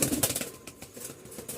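A restless Hatbaji pigeon in an unfamiliar, low cage beats its wings in quick, close bursts of flapping, loud then fading, then flaring again.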